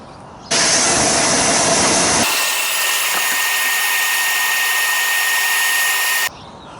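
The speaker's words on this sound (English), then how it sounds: "need to hoover that first" A vacuum cleaner hoovering an Audi car interior roars up loudly and runs steadily for several seconds, shifting to a higher, whinier motor pitch partway through before cutting off.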